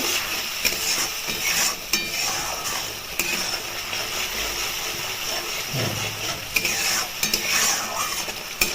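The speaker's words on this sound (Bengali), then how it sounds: "এই মশলাটাকে ভালো করে কষিয়ে নিতে হবে" Spice masala for an eggplant dish is stirred and fried in a pan: a continuous close sizzle with repeated scraping and clinking strokes of the spoon, occasional louder knocks, and no one talking.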